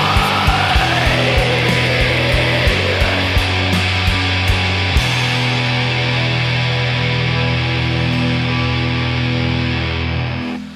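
A black metal album plays loud and dense, with distorted guitars and steady driving drums forming a continuous roaring wall of sound for about ten seconds.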